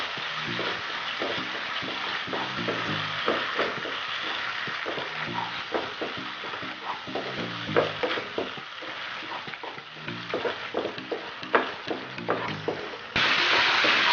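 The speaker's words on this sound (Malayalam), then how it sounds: "ഇതിന് നന്നായിട്ടൊന്ന് മിക്സ് ചെയ്ത് കൊടുക്കാം." A spoon stirs three tablespoons of slightly sour yogurt into a thickening egg masala gravy, giving repeated rhythmic scraping and wet squelching strokes over a soft continuous sizzle, close and steady for the whole stretch.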